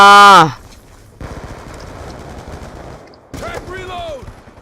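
Rapid bursts of automatic gunfire in Call of Duty: Black Ops II, a rattling stream of shots sitting between loud shouted voices at the start and end.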